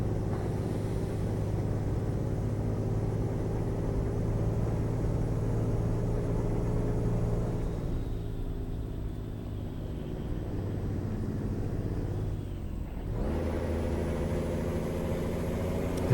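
A truck engine in American Truck Simulator gives a constant low, droning rumble with steady tonal hum, dipping briefly and surging back as the gears change.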